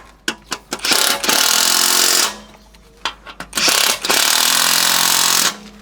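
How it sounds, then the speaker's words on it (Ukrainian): Impact wrench tightening bolts while assembling a Kentavr 40-1C/G walk-behind tractor: a few short blips, then two long, loud, steady buzzing bursts about a second each, separated by a quiet gap. "Затискаємо всі болти, які в нас були."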